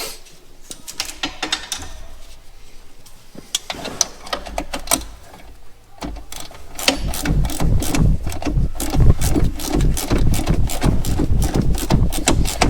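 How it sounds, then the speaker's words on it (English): A nut being tightened on a Kinze 3200 planter gives sparse ratchet clicks at first, then a dense, fast run of close metallic clicking. "You tighten it like you would any other nut."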